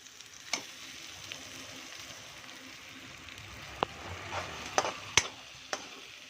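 Eggplant masala frying in oil over a low flame, a soft steady sizzle with scattered sharp clicks and scrapes of stirring, growing busier toward the end.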